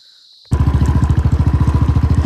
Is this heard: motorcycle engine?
yes